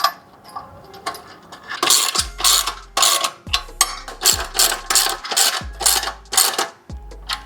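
A bolt with washers is tightened during assembly of a Monocross Multifuncional MC-1000 gym machine, giving repeated sharp metallic ratchet clicks in quick bursts, loud and close, with brief pauses between strokes.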